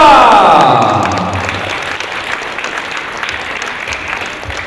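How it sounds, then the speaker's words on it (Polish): A crowd applauds the winners of the 2022 Polish tchoukball cup in Lubawka. Loud, dense clapping fills the hall as an announcer's voice fades out at the start. "Wielkie brawa!"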